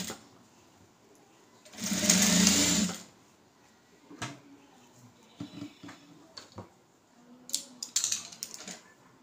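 Sewing machine stitching a lined blouse, one loud close burst of fast whirring stitching lasting about a second, then quieter handling taps and fabric rustles.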